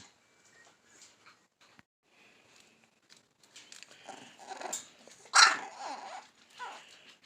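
A puppy gives a few faint, small, high barks and yips indoors, scattered over a few seconds with quiet gaps between them.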